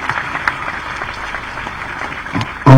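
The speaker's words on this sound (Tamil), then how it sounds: "நம்ம அத்தனை பேரும் நம்முடைய வாழ்த்துக்களை கைத்தட்டல் மூலமா அவருக்கு தெரிவித்துக் கொள்வோம்." Audience applause rising for a speed skating gold medallist at a public event, a steady broad clatter of many hands throughout, swelling and louder near the end.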